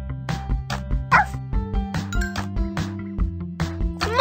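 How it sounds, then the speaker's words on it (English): Cartoon puppies barking and yipping in short, repeated bursts over background music, high-pitched and close, with several yaps in quick succession. "We found four puppies!"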